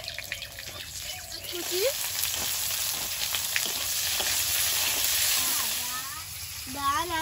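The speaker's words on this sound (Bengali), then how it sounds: "কড়াইতে আবার একটু তেল দিয়ে দেবো তেলের মধ্যে দেব একটু গোটা গরম মশলা তেজপাতার সঙ্গে দেব একটা শুকনো লঙ্কা কেটে" Whole garam masala, bay leaf and a cut dried chili fry in oil in a kadai, giving a continuous close sizzle with a few faint higher squeaky tones over it.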